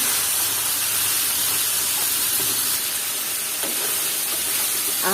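Cabbage hitting a hot pan of cooked chickpeas for a mixed vegetable dish, giving a steady loud hiss and sizzle of steam throughout, close by, with faint clatter near the end.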